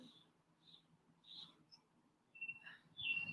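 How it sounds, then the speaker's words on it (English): Birds chirp faintly outdoors, with a few short, high calls scattered across the quiet and a slightly louder pair of chirps near the end, over a low background hum. "You can hear birds chirping."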